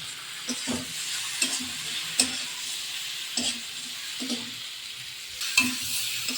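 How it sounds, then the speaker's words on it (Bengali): Eggplant frying in a pan under a soft constant sizzle, punctuated by repeated rhythmic scrapes and taps of a spatula stirring, close up with no talk. "বেগুনগুলো কিছুটা ভাজা হয়ে গেছে"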